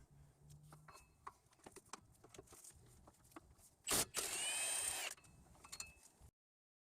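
A socket ratchet works a 14mm hub bolt on a Toyota rear wheel hub, giving scattered metallic clicks and taps, then a brief loud burst of rapid ratcheting and whirring near the end.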